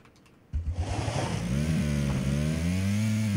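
A boat engine in PUBG Battlegrounds starts up suddenly and roars on, pitch climbing as it accelerates into a loud, sustained drone heard up close, with no talk over it.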